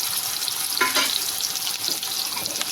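Onion and garlic masala frying in hot oil in a pan, a continuous close crackling sizzle with a brief stirring scrape in the middle, no voices.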